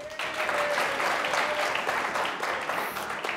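Studio audience applauding to vote for a contestant in a match on a television show, a full sustained burst of crowd clapping from start to finish with a brief tone ringing early on.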